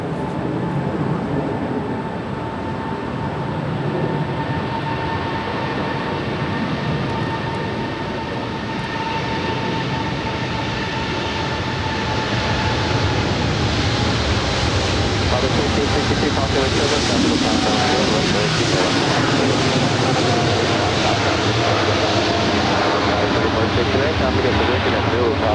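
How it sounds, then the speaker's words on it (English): An EVA Air Boeing 777-300ER departs Los Angeles International Airport, its jet roar swelling from a steady rumble to a louder, broad, sustained thunder, with faint voices in the background. "This is EVA Air Flight 5 departing to Taipei."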